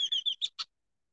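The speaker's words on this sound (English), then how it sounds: "Hello, red-winged blackbird." Red-winged blackbird calling near water, a quick series of about five bright, sharp notes in under a second, the first three running together and the last two clipped and separate, moderately close with nothing else around.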